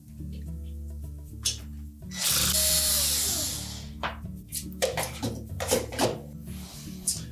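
A screw being removed from an LG refrigerator during thermistor assembly replacement, heard as a burst of whirring power-driver noise followed by several sharp clicks and metallic knocks, fairly close, over a steady low appliance hum.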